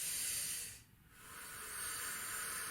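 A steady, breathy hiss of air being exhaled during a singing breathing exercise, fading briefly in the middle before resuming at a soft, even level.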